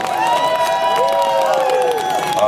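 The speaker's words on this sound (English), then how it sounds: "let's give them a nice great round of applause" Dense cheering and applause from a crowd at the Dragon Boat Canada Hall of Fame closing ceremony carry on steadily, with high voices shouting over sustained clapping.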